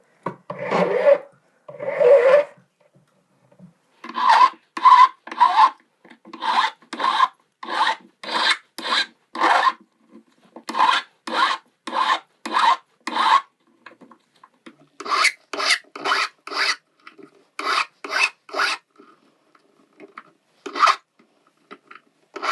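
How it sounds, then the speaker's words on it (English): Flat number 2 cut file rasping across a metal domed locket braced on a bench peg, in close, steady back-and-forth strokes grouped in bursts with short pauses, loud and alone. "I'm using a number 2 cut flat file"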